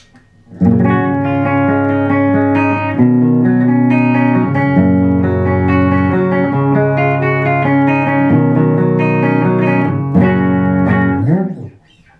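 Clean electric guitar tone from a Bugera 212V-BK 140-watt amp, ringing chords with clear sustained notes played at steady volume, then fading out at the end.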